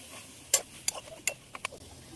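Spoon stirring boiled potatoes into a spiced egg-chicken chop filling in a pan: a handful of sharp scrapes and taps at uneven intervals, faint and close, with no talk.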